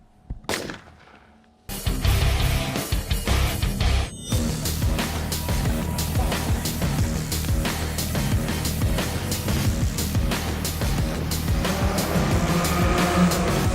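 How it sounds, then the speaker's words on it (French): Loud, continuous roar of French Super Touring championship race car engines with sharp cracking bursts during a sprint race at Lédenon circuit, sustained throughout after a brief quiet opening. "C'est parti pour la première course sprint du championnat de France Super Tourisme avec le poleman Antoine Young"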